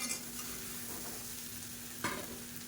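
Coconut masala being stir-fried in a pan as steamed kolukattai rice balls are tossed in, a steady soft sizzle with a sharper stirring scrape near the end, no voices.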